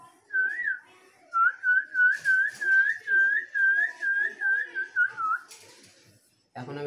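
A man whistles an imitation of a bird call: a repeated series of bright, warbling chirps in quick rhythm, close and clear, after one short opening note, with a brief voice at the end.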